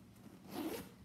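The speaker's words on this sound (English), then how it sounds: "and it does zip up nicely" A zipper runs closed on a black Jujube Million Pockets backpack, one short close rasping pull lasting under a second, quiet and alone.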